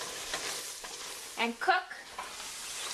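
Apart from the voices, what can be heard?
stirring a roux for chicken stew in a pot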